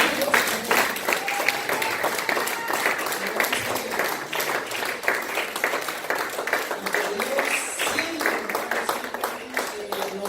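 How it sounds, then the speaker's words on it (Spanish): Congregation applause at a church gathering honouring a preacher, dense steady clapping sustained throughout, with voices mixed in underneath. "Otro aplauso al maestro, ¿no?"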